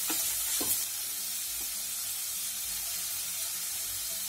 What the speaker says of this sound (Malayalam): അതിനുശേഷം ഇതെല്ലാം ചേർത്ത് നമുക്ക് ഇതൊന്ന് നന്നായിട്ടൊന്ന് വഴറ്റിയെടുക്കണം